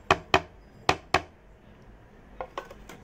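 Grated onion, chilli, turmeric powder and tomato tipped into a cooking pot, giving a few sharp clattering knocks of utensil against metal, two quick pairs near the start and softer taps near the end, with no talk.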